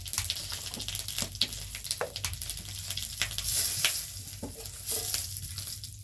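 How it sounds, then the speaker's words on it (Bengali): Panch phoron, a whole dried chilli and a bay leaf crackle and sizzle in hot oil, with close, irregular pops and spits over a steady frying hiss. "এই 5 ফোড়ন দিয়ে দিচ্ছি বন্ধুরা, আর একটা গোটা শুকনো লঙ্কা আর তেজপাতা"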